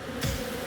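Insect buzzing in the Phobies video game, a short swelling hum over a steady game soundtrack bed, brief and fairly faint.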